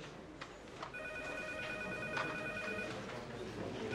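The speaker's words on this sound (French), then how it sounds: "Téléphone, commandant." A telephone rings with steady electronic tones, heard in a room during a French-language drama scene, with faint movement and room noise around it.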